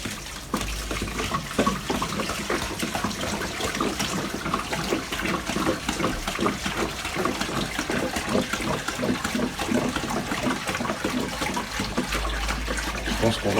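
Seawater pouring steadily into a small marine aquarium, a close continuous splashing gush that runs the whole time.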